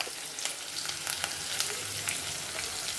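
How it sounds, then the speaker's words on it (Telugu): Crushed black pepper, cumin and garlic fry in a pan, giving a steady close crackling sizzle with scattered sharp pops throughout. "వేసుకొని వేయించుకుందాం కొంతసేపు."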